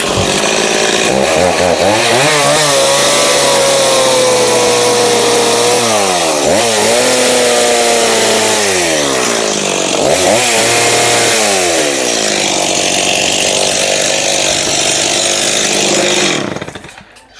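A petrol chainsaw runs loud and close almost without pause, its engine note dipping and rising in several throttle swings before it cuts off at the end; no one speaks.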